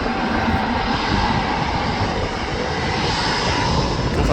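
A KLM airliner roars on departure from Manchester Airport, a loud, continuous broadband engine rush that holds steady throughout with no talk over it.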